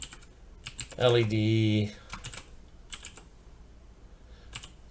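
Bursts of typing on a computer keyboard, with irregular clusters of key clicks before and after a brief spoken word.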